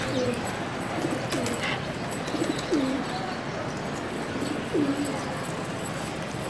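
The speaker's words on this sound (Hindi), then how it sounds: "कबूतर थोड़े से डिस्टर्ब हो रहे हैं" Pigeons in a loft coo softly, a few rolling calls heard over a steady, noisy background.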